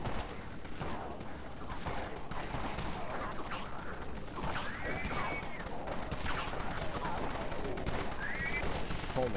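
Rapid, dense gunfire from the Dead Frontier video game fills the clip without pause, with bursts of shots blending into a steady loud barrage during a fight against a giant spider.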